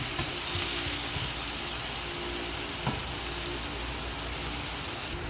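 Bay leaves with a pinch of salt frying in hot oil in a pan, a steady close crackling sizzle with a brief faint clink partway through, no talking.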